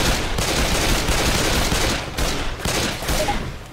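Gunfire from Left 4 Dead 2, a dense and continuous stream of loud rapid shots with a brief dip midway, and no voices over it.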